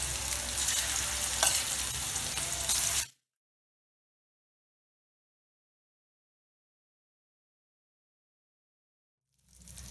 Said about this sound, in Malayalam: മീൻ നന്നായിട്ട് വറുത്ത് വന്നിട്ടുണ്ട്.